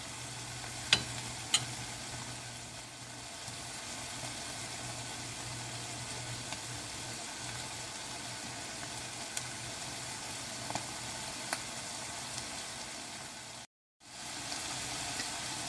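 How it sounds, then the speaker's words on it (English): Faint, steady sizzling of food frying in a pan, a soft constant crackle with a low hum underneath and a brief dropout near the end. "Can you hear them beginning to sizzle?"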